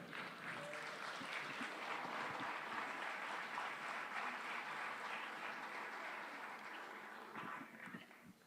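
Faint, distant applause from an audience at a talk on Genesis, a continuous patter of clapping that tapers off near the end.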